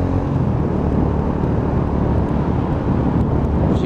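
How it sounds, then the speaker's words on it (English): A Lexmoto ZSX-F 125cc motorcycle is ridden with its engine revving, a loud, steady, dense drone heavily mixed with rushing wind noise throughout. "Just hear that rev tone."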